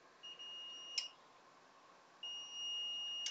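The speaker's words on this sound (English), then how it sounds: "Continuity mode is the mode where the multimeter will beep when you put the two probe points together." Two steady electronic beeps from a multimeter in continuity mode during a PS4 Pro repair of a ripped-off 4-pin 5V connector; the first is short, the second longer, close and clear with a faint hum beneath.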